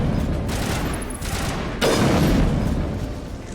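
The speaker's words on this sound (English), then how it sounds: "the rifle packs a fucking punch, doesn't it?" Heavy rifle gunfire in Mass Effect, with loud rapid bursts of shots in two dense volleys separated by a brief lull and a harsh, punchy attack.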